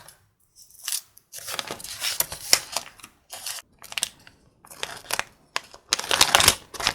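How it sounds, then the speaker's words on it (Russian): Crisp tearing and crinkling of a thin paper surprise packet being torn open in several short bursts, close up, with pauses between, growing louder toward the end. "Пакетик у меня неудачно открылся."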